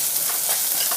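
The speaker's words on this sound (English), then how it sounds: "Saute till it turns golden brown in color. I'll just add a pinch of salt to it so that the process becomes faster." Chopped onions with a pinch of salt sautéing, a brief bright sizzle with a couple of faint stirring scrapes, close and steady.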